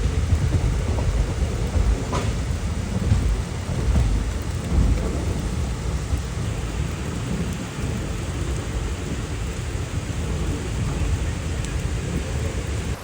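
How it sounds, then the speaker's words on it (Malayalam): Heavy monsoon rain pours on a passenger train running through Karnataka, a loud, dense roar of downpour mixed with low rumbling train motion throughout. "നല്ല മഴയാണ് ഇപ്പോൾ."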